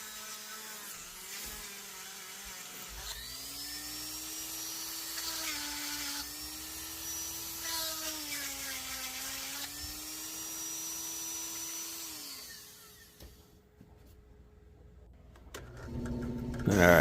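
An electric drill whines as it bores through a wooden corn cob popper fishing lure, a sustained high-pitched drone that wavers in pitch under load for about nine seconds before stopping, followed by quiet and a clunk.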